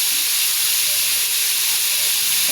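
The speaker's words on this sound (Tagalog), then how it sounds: "Ngayon, piprituhin na naman natin siya dito." Chicken wings frying in a pan of oil give a loud, steady, close hiss, an unbroken high sizzle with no talking.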